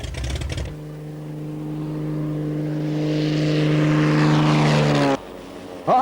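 Propeller aircraft engines start up and rev into a rising, droning takeoff roar that swells loudly for several seconds before cutting off abruptly.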